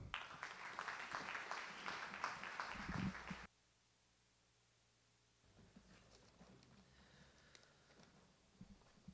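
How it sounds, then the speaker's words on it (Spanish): Audience applause at a Miraflores Teachers' Day ceremony honouring teachers, loud dense clapping for about three seconds that cuts off abruptly, followed by silence and then faint room murmur and scattered noise. "El aplauso para él."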